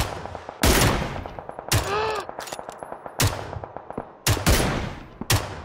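Loud PUBG gunfire on Xbox One X, several sharp close shots spaced about a second apart, with one rising tonal whine between them and softer distant pops in the background.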